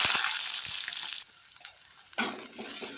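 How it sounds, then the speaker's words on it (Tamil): Chopped onions hit hot oil for a flat bean gravy, a loud, close, hissing sizzle that dips briefly, then surges back strongly, with occasional stirring knocks. "அடுத்து வெட்டி வச்ச வெங்காயத்தை எடுத்து சேர்த்துக்கலாம்."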